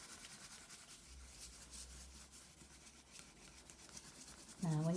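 A spoon rubs steadily over the back of paper laid on an inked Tetra Pak etching plate, giving a continuous soft, scratchy friction sound, close and quiet, that runs without pause.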